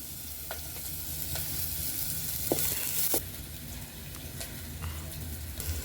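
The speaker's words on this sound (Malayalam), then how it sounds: "ഉള്ളി നന്നായി വഴറ്റിയെടുക്കാം." Onions sautéing in a pan on a wood-fired stove: steady sizzle with a few soft stirring knocks and scrapes, fairly quiet and close, no voices.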